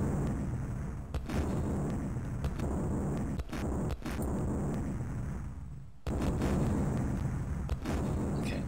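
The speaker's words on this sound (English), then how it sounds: "I'm gonna turn the game audio down a bit because now it's just explosions" Dune II on the Amiga, a continuous barrage of explosions and artillery fire, dense overlapping blasts and sharp cracks forming a loud, steady roar with a brief dip before resuming.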